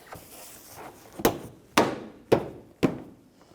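Four sharp plastic snaps sound at steady intervals as clips are pushed into a headlight bracket on a 2009–2014 Nissan Maxima, close and distinct against a quiet background.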